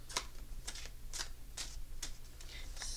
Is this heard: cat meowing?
no